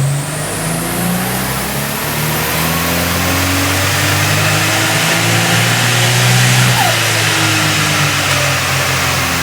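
A Datsun 240Z fitted with a GT-R engine roars at wide open throttle on a dyno, a loud sustained engine note climbing steadily in pitch as it pulls through the revs, close and unbroken.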